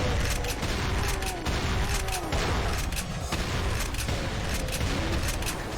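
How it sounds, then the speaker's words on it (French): A pump shotgun fires repeatedly in the Doom II video game, loud blasts in quick irregular succession over a dense, continuous roar of in-game combat noise. "Ah mais fusil à pompe est trop bon."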